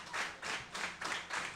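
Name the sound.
crowd clapping at wrestling event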